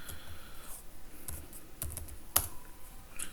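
Computer keyboard typing while C# code is written, a few sparse, quiet clicks and taps scattered across a faint background with no talk.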